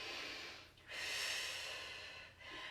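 Slow breathing in a yoga crescent lunge, a long airy inhale followed by a sustained exhale, close and fairly loud, then a brief catch of breath.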